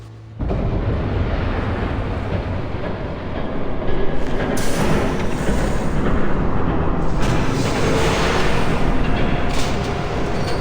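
Train rumbling past in Batman: The Telltale Series, a loud, steady broadband roar with rattling clatter that starts abruptly and holds for about ten seconds, with no talking.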